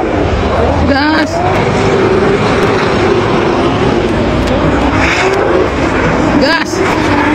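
A drift car's engine roars loudly at full throttle during a D1GP run in Japan, with a sustained, strained drone and rising pitch sweeps as it accelerates. Voices are faintly audible under the engine.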